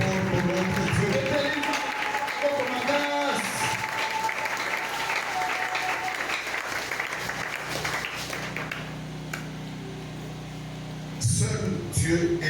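A church congregation at a thanksgiving service claps and cheers loudly in a dense, sustained roar of applause with crowd voices. The applause eases briefly near the end, then surges again.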